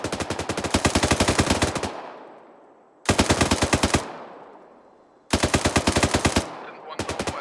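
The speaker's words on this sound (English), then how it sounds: "can I have LMGs press that two story" Light machine gun fire in the military game ArmA 3, three long sustained bursts of rapid automatic shots with echoing tails between them, then a short fourth burst, loud and close.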